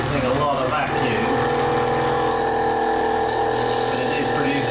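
A faulty boat water pump runs on a test bench with a steady mechanical whir and hum, loud and continuous throughout, with a rattling edge and some talk mixed in.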